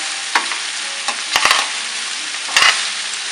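Okra and potatoes frying in oil in an Indian aloo bhindi, a loud steady sizzle broken by a few sharp spatula knocks and scrapes against the pan.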